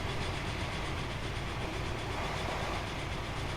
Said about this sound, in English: Train along the bridge across the river.